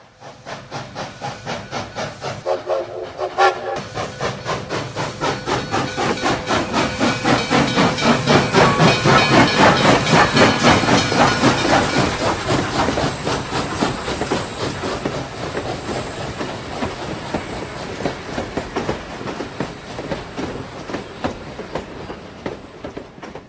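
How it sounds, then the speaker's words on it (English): A steam locomotive in the old version of the game Landscape hisses loudly with rhythmic chuffing and clickety-clack of wheels on rails, swelling toward the middle and continuing steadily throughout. "Steam locomotive."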